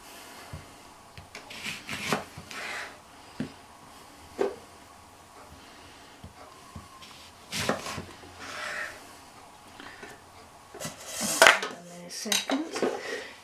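Lemons are juiced by hand in a home kitchen for ginger beer, giving scattered squeaks, scrapes and clinks of a juicer or utensils against a bowl, irregular and close, with no talk.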